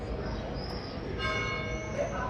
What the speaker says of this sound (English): I don't know if you can hear the bell in the background, but the church bell is ringing.